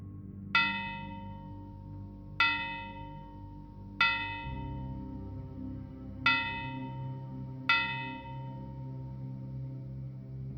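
A bell rings five separate times at a slow, uneven pace, each clear metallic strike ringing out and fading before the next, heard alone over a low, dark ambient drone.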